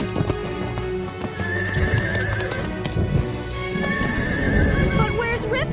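Chili, a cartoon horse out in a storm, gives loud neighs and whinnies with galloping hoofbeats over steady rain, while voices talk over it.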